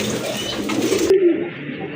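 A pair of big white Indian Bombay pigeons with rose crests and pink beaks give a soft, close coo over a quiet hiss, the low call swelling briefly near the end.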